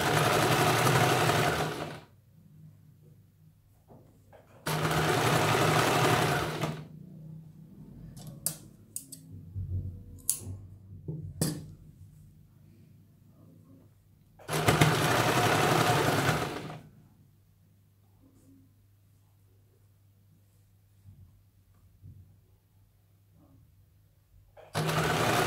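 A sewing machine stitches along the edge of a princess-cut blouse in three or four loud, steady bursts a couple of seconds each, separated by quiet pauses with faint clicks and handling.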